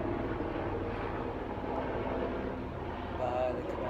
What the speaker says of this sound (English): Sorry, there's a plane.